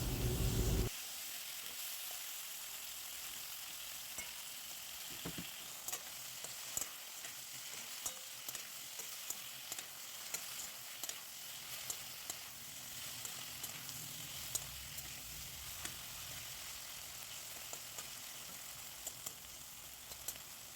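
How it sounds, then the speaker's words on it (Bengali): Chopped tomatoes and capsicum fry in a pan, salted, for a soybean recipe; a steady, quiet sizzle and hiss runs throughout, with a few soft stirring clicks and scrapes near the start and middle. "এবার টমেটো আর ক্যাপসিকামগুলো হালকা একটু ভেজে নেওয়া হবে"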